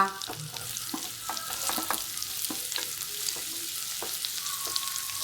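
Chopped onion fries in hot ghee with a soft, steady sizzle and a few light stirring clicks, fairly close and quiet, without talk.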